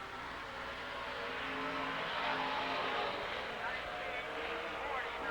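Late model race car coming off turn four at Silver Spring Speedway in a 1993 qualifying lap, a steady broad engine roar sustained throughout at moderate distance, with track announcer commentary running over it.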